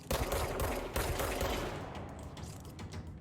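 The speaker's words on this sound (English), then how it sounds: "Who the fuck is shooting me?" Enemy gunfire aimed at the player in Control on PC, a few heavy close shots in quick succession followed by fading, rattling bursts that grow quieter toward the end.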